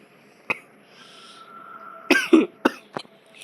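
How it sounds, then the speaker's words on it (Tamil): A person coughs several times, one short cough early and then a cluster of three or four harsh coughs close to the mic, with a faint steady hum in the background. "இருமல் வருது, அட்ஜஸ்ட் பண்ணிங்க"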